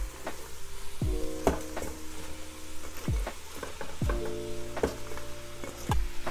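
Cabbage dropped into a hot pan of browned sausage for a Southern comfort dish, giving a steady close sizzle with a few sharp clatters and scrapes of stirring throughout.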